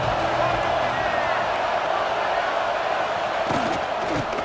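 A stadium crowd in the College Football 26 video game roars loud and steady as the defense lines up near the goal line, a dense unbroken wall of cheering with a few thuds near the end.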